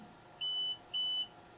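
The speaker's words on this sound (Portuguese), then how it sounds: "É um bip bem mais alto do que o bip de toque, né?" FNIRSI 2D15P multimeter emitting two sustained electronic beeps during continuity testing, each about a third of a second long, with faint clicks between them and no talk.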